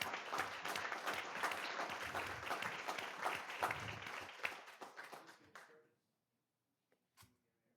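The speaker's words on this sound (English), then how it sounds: "So let's give them a round of applause for everything." A school board meeting audience gives a sustained round of applause, dense clapping for about six seconds that stops abruptly, followed by a few faint stray sounds.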